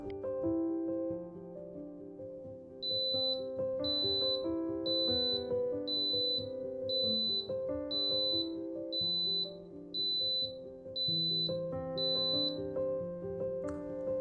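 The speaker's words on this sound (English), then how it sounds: "it's beeping a bunch of times to let you know that it is turning off" A regular series of about ten short, high electronic beeps from an Instant Pot shutting off sounds at an even pace over a steady hum and background music.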